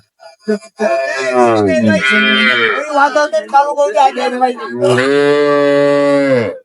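A cow moos loudly several times nearby at a village cattle market, long drawn-out lowing calls with brief pauses between them.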